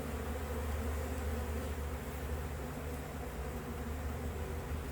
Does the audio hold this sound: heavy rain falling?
no